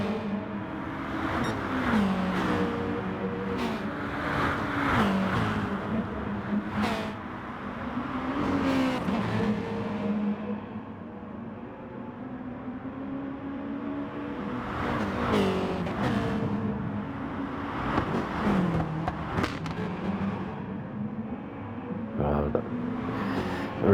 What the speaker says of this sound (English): Ricky J nips down inside on Dowler. I think Dowler caught napping there. Nice clean overtake.